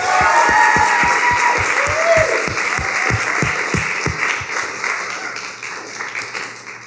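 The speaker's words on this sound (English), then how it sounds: "I just want a big round of applause for them." An audience applauds the organizers of an eCommerce event, a dense round of clapping with some sharp nearby claps, fairly loud and gradually tapering off toward the end.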